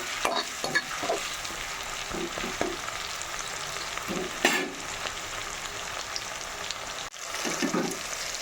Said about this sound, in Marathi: टोमॅटो तेलामध्ये शिजू द्यायचं आहे